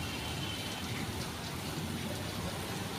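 Rain with large, heavy drops falls steadily after a shower, a dense, even hiss with faint patters that holds at the same level throughout, with no voices.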